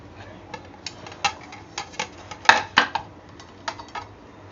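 A mango cake made without an oven is turned out of its pan onto a plate, giving a run of light metallic clinks and knocks, with one sharper clatter near the middle, close and fairly quiet.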